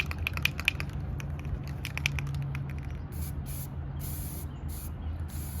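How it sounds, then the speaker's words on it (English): Spray paint is applied as a final coat in a hydrographics lab, rapid hissing bursts from a spray can close by, short and broken at first, then longer pulses. "you don't wanna spray too heavy in one spot for too long"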